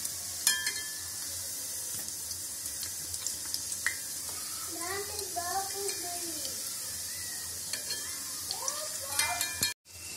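Urad dal vadas frying in hot oil, a steady soft sizzle with faint stirring and a few light clinks, while someone speaks quietly over it.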